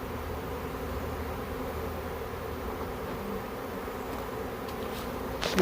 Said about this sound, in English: Get these bees all rally up,